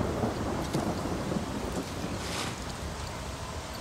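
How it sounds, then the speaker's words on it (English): Stormy wind and rumbling thunder in Ghost of Tsushima, a steady roaring wash of wind and rain-like noise with a deep continuous rumble, fairly loud and unbroken, no voices. "Wind's getting stronger."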